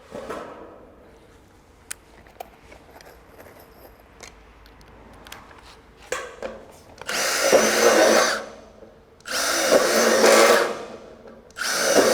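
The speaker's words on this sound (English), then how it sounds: "I've just drilled those holes there so I can get my tin snips in there" A power drill bores holes in a quad metal gutter, whining loudly in two long sustained bursts after quieter handling clatter and clicks.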